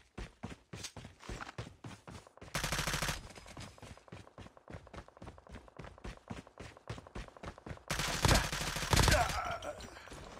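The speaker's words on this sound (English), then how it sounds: "I think I'm hearing some more shots down at dock." Gunfire in the Call of Duty Mobile video game at a dock area, rapid bursts of sharp shots in quick rhythmic strings, with two louder dense volleys standing out over the steady firing.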